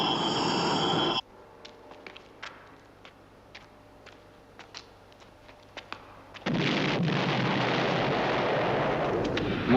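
Dull, distant booms and sharp pops scatter through a quiet stretch, framed by dense roaring bursts at the start and end.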